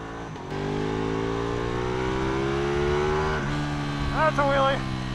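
A Ducati 1299 Panigale S motorcycle accelerates hard through third gear into a power wheelie, its engine note rising loud and steady under heavy wind rush, then easing off. A rider's excited voice breaks in near the end.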